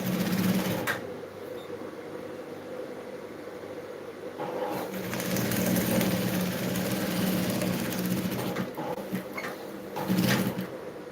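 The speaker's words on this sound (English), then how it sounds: "so I'm going to sew that in." A sewing machine stitches a 1-inch side seam through fabric in bursts of steady whirring, starting softly and running louder in the second half, with short pauses between runs.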